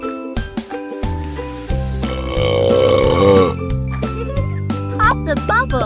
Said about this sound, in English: Help Lu burp.